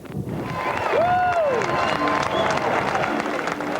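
A stadium crowd at a baseball game applauds and cheers as a player runs to first base, a steady broadband roar of clapping and voices filling the whole stretch, with a brief whistle-like tone rising over it near the start.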